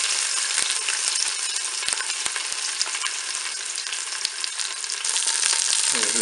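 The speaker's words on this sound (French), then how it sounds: "Mon huile est chaude, je vais pouvoir faire dorer mon rôti sur toutes ses faces." A turkey roast browning in hot oil inside a Cookeo multicooker, giving a continuous close, loud sizzle scattered with sharp crackling pops.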